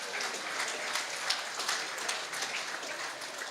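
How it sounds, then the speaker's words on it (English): Steady applause from an audience at a regional sports awards night, honoring a women's team, sustained and even throughout at moderate distance. "Round of applause for the ladies."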